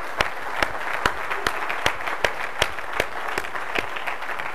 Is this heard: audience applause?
yes